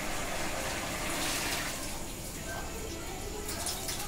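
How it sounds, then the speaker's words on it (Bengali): Boiled chickpea cooking water pours steadily into a pan of chana masala, a continuous splashing gush of liquid lasting several seconds, close and fairly loud. "চানা সেদ্ধর জলটা আমি আলাদা করে রেখে দিয়েছিলাম, সেটা চানার সঙ্গে চানার মধ্যে ঢেলে দিলাম"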